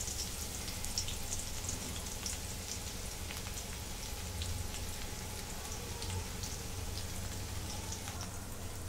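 Crushed garlic frying in a small amount of hot oil, giving a steady, dense crackle and sizzle like light rain, constant and close throughout with no talking.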